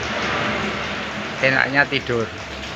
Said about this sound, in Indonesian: saat hujan seperti ini memang enaknya